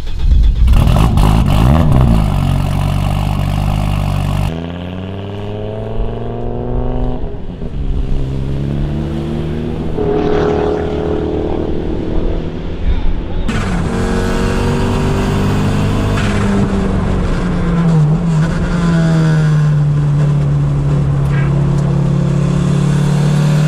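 An Audi Sport Quattro rally car with a synchronized six-speed gearbox and a stiff clutch, heard loud and close from inside as the engine revs hard, drops between gear changes, then climbs again in a long rising pull.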